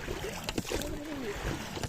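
Oars splash and creak as a small fishing boat is rowed across a lake or river, with soft, irregular dips and knocks mixed with light wind and water noise, fairly faint and without speech.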